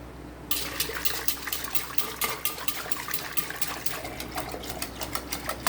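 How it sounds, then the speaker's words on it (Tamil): A whisk beats curd in a pot for buttermilk, a rapid steady rhythm of wet sloshing strokes, close and continuous, with no talk. "இப்போ இதை விஸ்கு வச்சு நல்லா கடைஞ்சிடலாம்."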